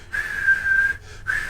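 A person whistles a steady single pitch, holding the note with a short break before resuming, close and clear.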